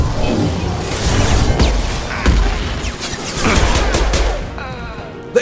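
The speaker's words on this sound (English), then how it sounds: "They really had to fucking all shoot rockets at me?" In the video game Mass Effect 2, enemies fire rockets at the player, producing a loud, continuous barrage of blasts, crashes and heavy impacts that barely lets up before a short, final thump.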